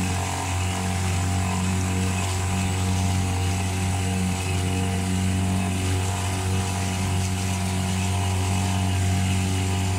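Mariner 8 HP outboard motor pushing a boat across a lake, a loud continuous droning hum that holds steady throughout with no pauses.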